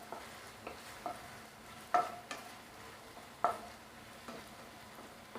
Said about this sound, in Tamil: இது கொஞ்சம் நேரம் சிம்மில் வச்சு நல்லா வதக்குங்க